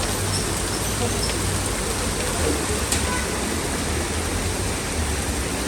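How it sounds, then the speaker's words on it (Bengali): Steady, dense broadband hiss of heavy rain pouring continuously in Bogura, Bangladesh, loud and close throughout with no pauses. "অনেক বৃষ্টি হচ্ছে, অনেক।"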